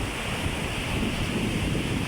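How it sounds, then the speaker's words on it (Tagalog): Ocean surf on a seashore, a steady close roar of crashing waves with wind buffeting the microphone, continuous and loud with no voices. "natanaw ko na ang kalabsog ng alon. Dinig po sa amin yung kalabsog."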